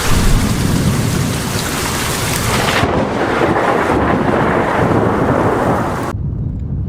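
A vicious southeastern thunderstorm roars with dense heavy rain and deep rolling thunder, loud and constant, then cuts off sharply near the end.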